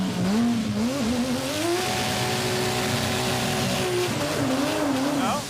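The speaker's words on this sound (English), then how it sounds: "It wanted to shift though. It was on the limiter." A Dodge Charger race car engine revs hard and holds on the rev limiter in first gear, a loud, steady, close buzzing drone with the pitch wavering up and down near the start and end.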